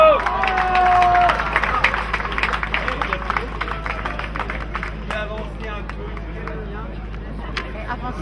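Crowd applause and clapping at a cycling Grand Prix awards ceremony as the winner is presented with flowers, a steady spread of claps with crowd murmur and a brief whistle-like tone early on.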